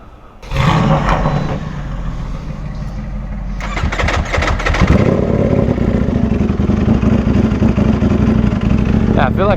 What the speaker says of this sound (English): I feel like my bike is idling a little too low sometimes.